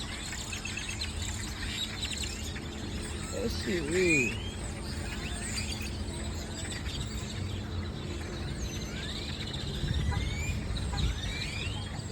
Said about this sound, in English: Since when do birds act like this?